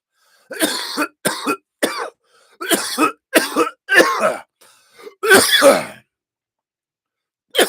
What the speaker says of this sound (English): I almost coughed in the drink.